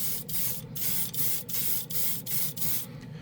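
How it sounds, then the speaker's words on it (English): Spray gun laying down steel-colored paint and primer from a compressor at 20 psi, a steady close hiss in repeated bursts, with brief gaps roughly every half second as the trigger is pulsed. "Let me see what I'm spraying at here. 20 psi."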